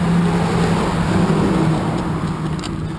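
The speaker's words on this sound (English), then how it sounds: "You can hear garbage truck." A garbage truck passing on a road, heard from inside a moving car: a steady, loud low engine drone and road rumble that hold for the whole stretch, with a slight rise in engine tone partway through.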